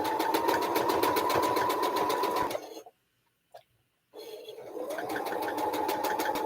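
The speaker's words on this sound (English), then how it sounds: "Need to turn my sewing machine so I can be more over here." A sewing machine stitches a quilt in a fast, even, loud whir, stops for about a second and a half with a single small click, then starts again and runs steadily to the end.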